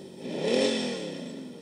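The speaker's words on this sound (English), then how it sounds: "I did install an aftermarket Sense Innovations S dual sound kit." A simulated Jeep JK engine note from a Sense Innovations sound kit in a radio-controlled scale Jeep rises in a short rev and then settles back down, a brief mid-pitched engine drone.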